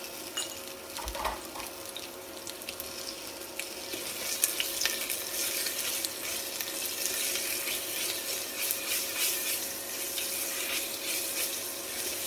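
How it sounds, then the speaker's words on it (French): Onions and crushed garlic fry in a pan with a steady bright sizzle, a constant close crackle with occasional sharper pops and faint stirring, no voices. "Et là, il faut faire chauffer les oignons."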